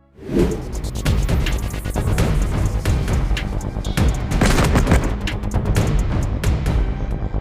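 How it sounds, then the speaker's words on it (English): Dense rapid gunfire and explosive booms from the mobile shooter game Gunfire Ops, continuous and loud for the whole stretch, with whooshes mixed in. "Gunfire Ops delivers on intense firefights with a variety of weapons"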